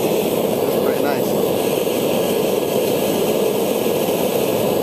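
A propane forge's blower fan runs steadily, a constant loud broadband whoosh and roar with no breaks, close to the microphone.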